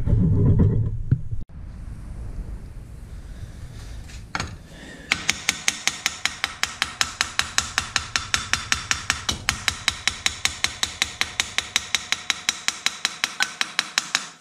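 A hammer taps on the frozen swivel bracket of a Mercury 110 9.8 HP outboard motor in a rapid, even series of sharp metallic knocks, close and loud, after some softer handling noise.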